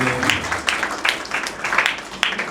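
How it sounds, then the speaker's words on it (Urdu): Audience applause for the sisters at a Pentecost gospel service, a loud, fairly close burst of clapping that carries on steadily, with some talk mixed underneath. "لوگ بہنوں کے لیے ذرا تالیاں بجائیں"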